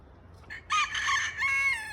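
A rooster crows loudly and close on a chicken farm, its call rising in two long, strained bursts with a brief break between them, while hens cluck and stir faintly around it.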